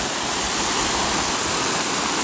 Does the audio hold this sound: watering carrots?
yes